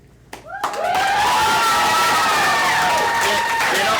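A studio audience on a quiz show erupts into loud, sustained cheering and applause. After a brief quiet moment, whoops and shouts rise over dense clapping and hold at a steady high level to the end.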